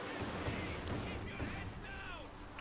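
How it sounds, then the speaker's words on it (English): A Katyusha rocket barrage in Company of Heroes 2 fires a rapid string of sharp blasts and whooshing launches in quick succession, landing as a dense, rumbling volley at moderate distance beneath a commentator's voice. "Katyusha barrage going off into the center."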